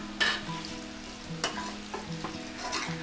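Boiled potatoes frying with curry leaves in a pan give a close, steady sizzle, broken by several sharp scraping stirs of a spoon.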